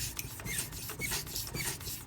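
A Spyderco Endura 4 Wharncliffe blade is drawn across a fine Pride Abrasives sharpening stone in quick, close rasping strokes, about eight passes with short pauses between, quiet and alone.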